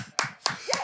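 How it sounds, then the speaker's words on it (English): Three sharp, loud hand claps spaced roughly a quarter second apart, close by, with faint murmuring between them. "Let's give them a round of applause."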